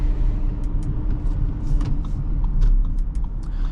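A 2025 Audi Q7 45 TFSI is driven, heard from inside as a steady, loud low rumble of engine and road noise with faint clicks and interior rattles, and no talking.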